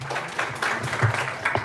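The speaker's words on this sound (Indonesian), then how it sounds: "Tepuk tangan buat Master Gema." A seminar audience in Malang gives a short round of applause welcoming a forex trading speaker. The clapping is loose and moderate, with a low hum or murmur running underneath.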